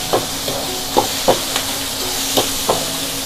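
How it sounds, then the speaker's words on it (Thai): Shrimp stir-fried in a hot pan: a steady sizzle runs throughout, broken by about seven sharp scraping stirs spaced roughly every half second, close and fairly loud, with no talk. "เราจะผัดกุ้งกันดีผัดกุ้งดีกว่านะเพื่อนๆ"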